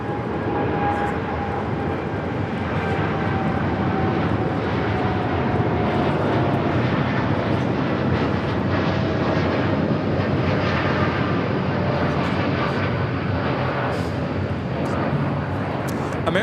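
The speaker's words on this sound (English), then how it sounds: "American Airlines 914 taking off to Miami, Florida on the 787-8 Dreamliner." An American Airlines Boeing 787-8 Dreamliner takes off at LAX, producing a loud, continuous jet roar with a thin tonal whine that slowly drifts downward throughout.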